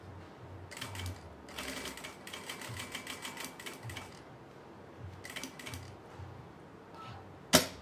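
A domestic sewing machine quilting a placemat runs in fast bursts of rapid mechanical stitching with short pauses between runs, ending with a sharp click.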